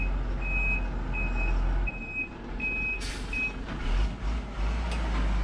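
Loaded truck manoeuvring on a buffalo farm, its reversing alarm beeping evenly about five times over a loud low engine rumble, followed by a hiss of air and clattering.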